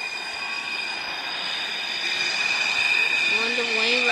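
A train ride in the Roblox game Mega Miners gives a steady rolling rail hum with high whining tones that build in loudness, then squealing wheels rising near the end.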